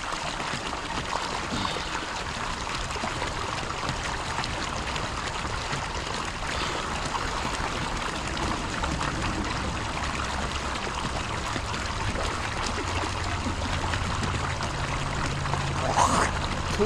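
Steady trickle and splash of water from a homemade backyard pond fountain, a continuous close wash of flowing water running unbroken throughout.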